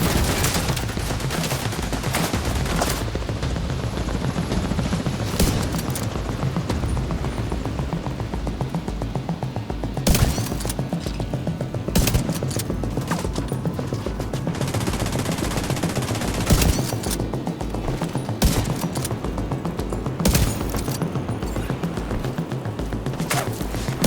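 Rogue sniper turret and other weapons firing in The Division 2 PvP, sharp repeated gunshots in bursts and single cracks over a dense battle backdrop, loud and close throughout.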